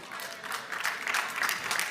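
A congregation's clapping during a sermon fills the space, a dense steady patter of many hands that holds fairly even throughout.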